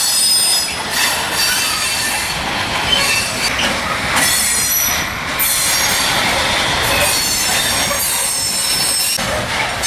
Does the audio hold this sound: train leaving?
yes